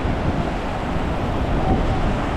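Ocean waves at a Quezon beach roll in as a steady, loud wash of surf, mixed with wind buffeting the microphone, with no distinct breaks or pauses.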